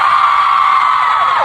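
A group at a live event shouts and cheers together in one sustained, loud roar of many voices, dense and unbroken from start to finish.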